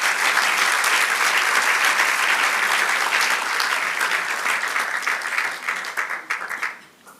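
A church congregation claps together in loud, sustained applause, dense and even for several seconds before it thins out and fades at the end.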